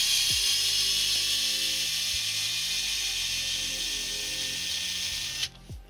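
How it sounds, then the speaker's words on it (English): An electric screwdriver whirs steadily for about five seconds, backing 2mm screws out of an Arrma Outcast RC car bumper, then cuts off abruptly with a soft click. "electric driver"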